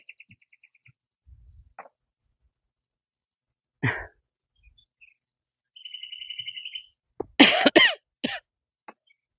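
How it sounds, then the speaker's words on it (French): A few sharp coughs close by, one isolated and then a tight cluster, from pollen irritation early on a Sunday morning, with faint bird chirps in the quiet background. "Moi, je tousse en même temps, ça aide pas, mais c'est à cause du pollen."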